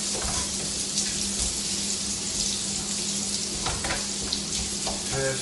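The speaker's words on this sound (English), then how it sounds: "I'm going to just cook that cabbage so that cabbage starts to cook into it" Cabbage fries in a pan for pad thai with a constant, fairly quiet hiss and a watery, bubbling texture, broken by a few soft stirring clatters toward the end and no one talking.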